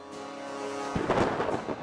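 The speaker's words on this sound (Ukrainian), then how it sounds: "Гримить грім б'є блискавка, він прокидається." Thunder rumbling in the video game Stars In The Trash, a low crack breaking out over a steady background hum and rolling on for about a second.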